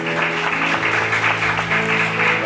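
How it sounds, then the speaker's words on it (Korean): A church congregation at a Friday worship service claps together while a sustained organ or keyboard chord holds underneath, steady and fairly loud. "박수 올려드리겠습니다."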